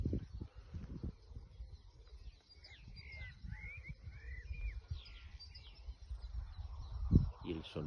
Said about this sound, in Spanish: el sonido de los pájaros es precioso.